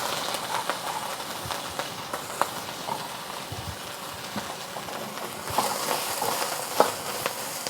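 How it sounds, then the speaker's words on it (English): Onions and ginger sizzle in hot cooking oil for a beef stir fry, a steady crackling hiss with occasional sharper pops and stirring clatter, close and moderately loud, with no talking. "1 tablespoon of cooking oil again. And adding my onions and ginger."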